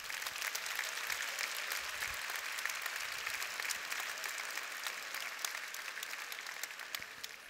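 A live audience at a motivational talk on finding life's purpose bursts into dense, sustained applause, loud and steady throughout with many overlapping claps and no talking.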